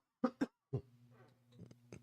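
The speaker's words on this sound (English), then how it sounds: "Darn old cough." A few short, harsh coughs close by, followed by a low throat-clearing rumble and a couple more faint coughs.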